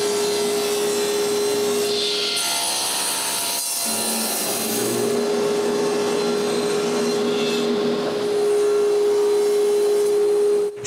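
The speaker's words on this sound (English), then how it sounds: "Now I can remove the uneven edges and cut all the rails and stiles." A power saw rips through wooden planks, cutting rails and stiles for raised-panel cabinet sides. The steady whining cut runs loud and close for the whole stretch, dipping briefly midway before the blade bites back in, with no talking.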